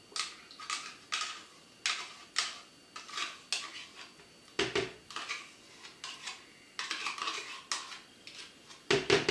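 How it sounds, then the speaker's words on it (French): A spoon clinks and scrapes around a bowl as a yogurt and gelatin mixture is stirred, in a steady series of short, close knocks and scrapes with a few louder taps. "Et on mélange"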